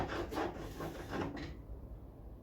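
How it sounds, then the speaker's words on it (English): Melted wax is rubbed onto a snowboard in a few quick scraping strokes at close range, then the scraping stops and only faint room noise remains. "put the stick on the iron, let it start ripping, and immediately wipe it on the board"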